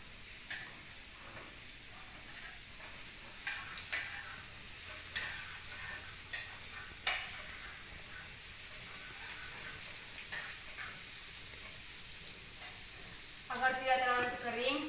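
Sliced jackfruit seeds stirred and fried in a pan, giving a steady sizzle with occasional scraping stirs throughout, close and moderate in level, a brief bubbly burst near the end.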